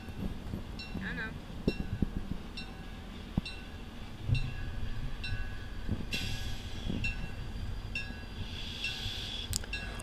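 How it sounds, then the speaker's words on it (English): A passenger train pulls into a station on the RBMN railroad, a steady low rumble with rhythmic wheel clicks and a brief high squeal near the end, heard from trackside. "the regular passenger train for the day was pulling into the station"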